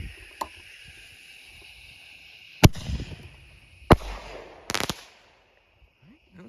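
Mini mortar firework shells go off outdoors at a distance. There are two sharp reports, then a brief fizzing crackle burst after a faint earlier pop, and no voices.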